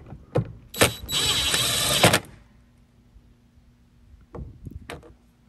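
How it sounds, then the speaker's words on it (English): A powered T40 Torx driver tightens screws on the electronic liftgate latch of a 2015-and-later Yukon, Tahoe, Suburban or Escalade, with one sustained whirring burst and a few short clicks and taps around it. "Again, that's with the T40 Torx. We'll go ahead and tighten these both down."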